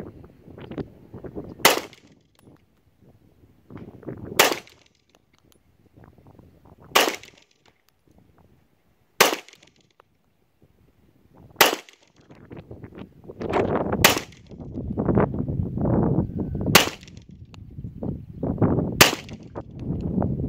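Eight sharp, loud gunshots ring out from a handgun fired at a 25-yard target at an outdoor range, spaced a couple of seconds apart, with wind noise and low rumble rising between the later shots.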